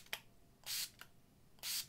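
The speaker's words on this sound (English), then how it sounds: "I feel like when a setting spray sounds like this" Sunkissed oil-control setting spray misted from a pump bottle, two short airy hisses, each with a faint click of the nozzle before it, quiet and close.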